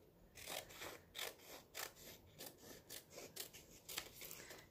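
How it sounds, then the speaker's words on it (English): Scissors cut paper at a craft table in about a dozen quiet, rhythmic snips, each a short crisp rasp with brief pauses between, and no talking. "Let me cut this smaller."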